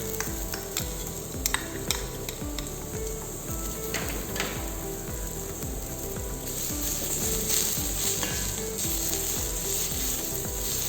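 Sliced onions, then garlic, sauté in a pan for a cabbage and beetroot soup, a continuous sizzle with scraping stirs and clinks of the utensil against the pan, steady throughout and with no talking.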